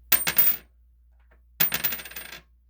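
A 1974 coin is dropped onto a hard surface twice, each drop a close, bright clatter of bouncing and rattling that rings out for under a second before settling, with a quiet pause between the two drops.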